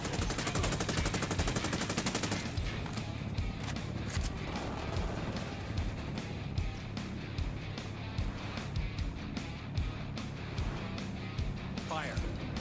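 Gunfire against cartels in Ghost Recon Wildlands, rapid automatic bursts of crisp shots repeating steadily over a dense, noisy battle bed, moderately loud, with voices heard around the firing.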